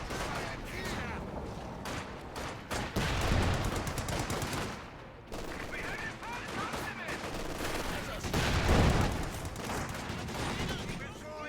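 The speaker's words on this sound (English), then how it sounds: "Big shots from the mortars once again onto the Zis gun" Mortars fire during a Company of Heroes 2 tournament match, with repeated booming shots and bursts of gunfire rolling through the battle under a commentator's talk.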